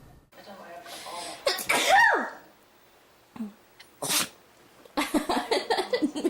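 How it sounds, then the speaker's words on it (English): A single sharp sneeze bursts out close by, followed by breathy sounds and a few scattered vocal noises and clicks after short pauses. "Sneeze."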